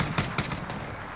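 Rapid gunfire from a first-person shooter game, a couple of loud sharp bursts near the start followed by a steady rattling stream of shots, close and dense throughout.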